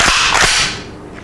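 Benelli Supernova pump shotgun, Law Enforcement Edition, fired on a range: a single loud, sharp blast with a quick, fading tail and no voices.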